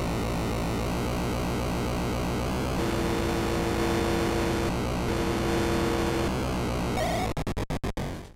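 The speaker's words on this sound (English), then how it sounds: "the 7800 actually ended up with a version of Pole Position 2, the sequel, and it's a pretty solid racing game" Racing cars in Pole Position II on the Atari 7800 make a continuous, buzzy, muffled synthetic engine drone that shifts pitch in steps, then breaks into rapid stuttering bursts at the end.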